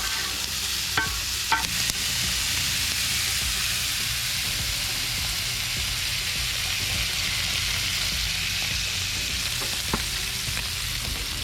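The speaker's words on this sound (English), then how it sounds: "All of this scrumptious lobster meat is about to go on the griddle and be doused in that" Lobster meat hits a Blackstone griddle in melted butter, giving a steady, dense sizzle that runs unbroken and fairly close, with a few light scraping clicks near the start and again toward the end.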